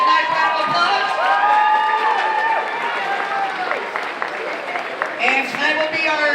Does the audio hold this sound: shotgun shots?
no